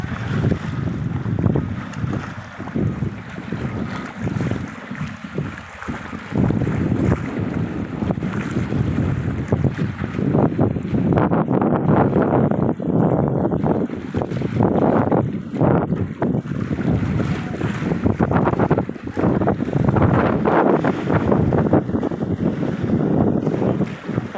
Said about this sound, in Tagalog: Lakas ng hangin, kaya yung alon lalakas din